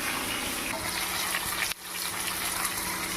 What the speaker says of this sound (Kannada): ಬದನೆಕಾಯಿಗಳನ್ನ ಕಾದಿರೋ ಎಣ್ಣೆ ಒಳಗೆ ಹಾಕ್ತಾ ಇದ್ದೀವಿ.